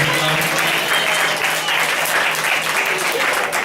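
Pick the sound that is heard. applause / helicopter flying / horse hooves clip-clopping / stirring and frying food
applause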